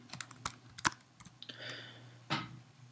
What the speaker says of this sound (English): you can just start typing the name of any ingredient here